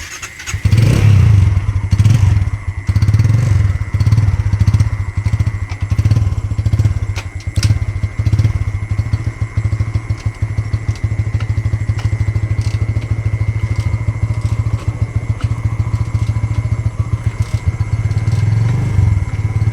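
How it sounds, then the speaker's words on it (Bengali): A motorcycle engine catches and runs loud and close. It keeps up a steady rapid putter with rough clattering pulses, and the revs swell slightly near the start. "কেন একটা বাইক অন হয়েছে, দেখো ওটা অন হয় কি দেখো।"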